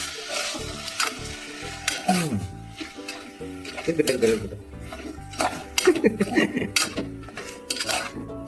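Chicken and onions stirred in a metal pan, with a utensil scraping and clinking against the pan in irregular bursts over a soft sizzle, close and fairly loud.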